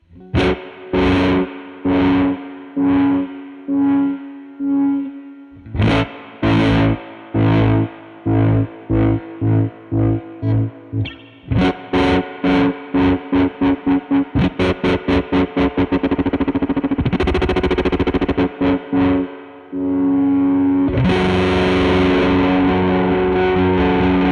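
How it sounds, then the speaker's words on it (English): A Dreadbox Treminator tremolo pedal set to a triangle wave at full depth, with overdrive, chops a guitar into pulsing swells of distorted tone, the throbs speeding up toward the end and then holding steady, loud and with no talk. "distortion or the amount of overdrive or fuzz gets bigger with more volume"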